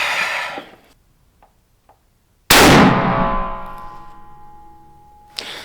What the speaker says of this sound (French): tirons un petit peu avec cette Kar 88